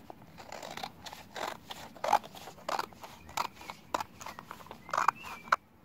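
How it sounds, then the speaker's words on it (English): Repeated crisp snips of scissors cutting, a steady run of short clicks and crunches, close by with no talking. "we just grab a scissors"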